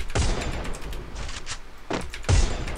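Desert Eagle pistol fired in the Free Fire video game on an emulator, two sharp loud shots about two seconds apart, each followed by a brief echoing tail.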